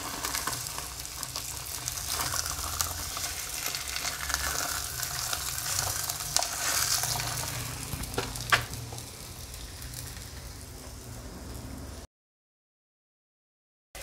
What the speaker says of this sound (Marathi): आता आपण त्या पॅनवर तेल टाकूया। नाही तापलेलं आहे। आता हे थालीपीठ आपण याच्यावरती टाकूया।